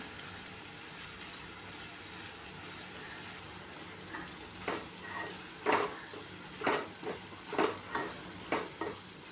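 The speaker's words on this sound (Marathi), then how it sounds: "कांदा व्यवस्थित लाल मऊ होईपर्यंत परतून घेऊया।" Onions sautéing in a pan for aloo dum gravy: a steady soft sizzle under intermittent stirring scrapes and clinks that grow busier in the second half, close and fairly quiet with no talk.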